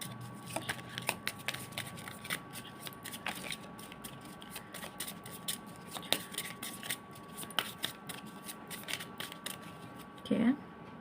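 Tarot cards are shuffled and drawn from the deck in quiet, irregular riffles and soft taps and rubs, with someone speaking briefly near the end.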